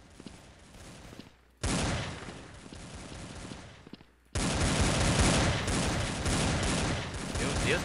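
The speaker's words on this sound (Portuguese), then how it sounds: "Meu Deus, quanto tiro pra você morrer" Rapid gunfire in the game Blood Strike bursts out in two loud, sustained volleys after a quieter stretch, dense and continuous with a faint voice underneath.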